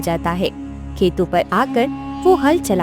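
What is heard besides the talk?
None of the usual background noises is heard.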